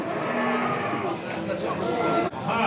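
Heifers moo at a livestock market in Beylagan, Azerbaijan, a drawn-out, close, low bellow filling the whole clip over background market murmur.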